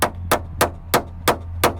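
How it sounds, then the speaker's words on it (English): A small hammer taps a socket fitted on a crusty wing mirror bolt of an R50/R52/R53 car, giving six sharp metallic strikes at a steady, even pace, close and clear. "give a little tap on the socket. You can use a little hammer."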